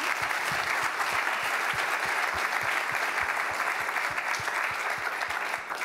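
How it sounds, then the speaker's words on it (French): An audience at an insurance awards ceremony applauds the trophy organisers, with a full, sustained wall of clapping and a few steady rhythmic claps standing out, continuous and even from start to finish. "Donc on pourrait peut-être un petit peu les applaudir eux aussi"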